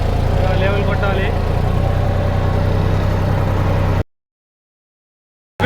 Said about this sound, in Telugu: ప్లవ్ వేస్తున్నాము. ప్లవ్ వేసి లెవెల్ కొట్టాలి.